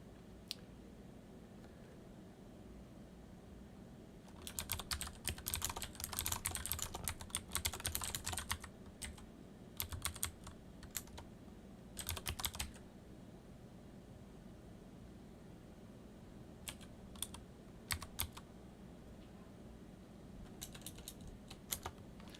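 Typing on a computer keyboard, close bursts of rapid key clicks in several clusters separated by pauses, over a steady low background hum.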